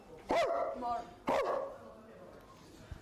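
A person imitates a dog with two loud, close woofs about a second apart, then quiet.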